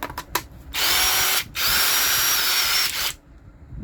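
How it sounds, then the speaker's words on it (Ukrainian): A new cordless impact driver, part of a tool bundle with a 1.5 Ah battery, whirs loudly in two close bursts of about one and a half seconds each, separated by a short pause, with a few faint clicks before the first. "Далі новий імпактик такий."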